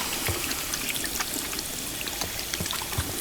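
Running water pours steadily over hands being washed at a gas station restroom sink in the Life is Strange 2 video game, a continuous close splashing with small irregular drips and no talking.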